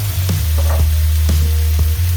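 Chopped onion hits a hot pan and sizzles loudly and steadily up close, with a few soft clicks and scrapes over the continuous frying hiss.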